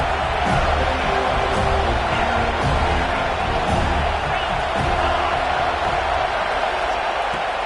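A football stadium crowd roars loudly and continuously behind the defense on a big third down, a dense wall of cheering and shouting with scattered thumps, no pauses throughout.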